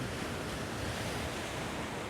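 Sea waves wash against the shore at a coastal landscape photography spot, a dense, steady broadband roar with wind buffeting the microphone, no talking.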